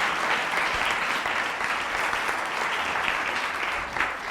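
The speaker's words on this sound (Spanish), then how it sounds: "dale un aplauso al Rey" Church congregation applauding during a Sunday altar service, a steady, dense wash of clapping from many hands that holds evenly for the whole stretch without pause.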